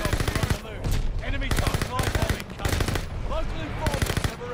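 MARCO 5 submachine gun in Call of Duty: Vanguard firing long, rapid automatic bursts, loud and close, with brief pauses between strings of shots.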